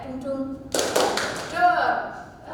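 An audience claps out a rhythmic pattern in unison at a national BKP competition session at Universitas IVET, with sharp claps bursting in after a voice, followed by a ringing tone and murmuring voices.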